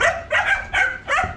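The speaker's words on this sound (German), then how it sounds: "Da drüben sind die Schäferhunde." Caged German Shepherds bark in a quick run of four sharp, close barks, steady and insistent, with no talking.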